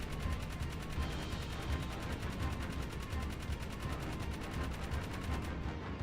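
Rapid turret gunfire from a vehicle in Jak 3, a continuous fast-repeating stream of shots held at a steady, fairly close level for the whole stretch, with no voices.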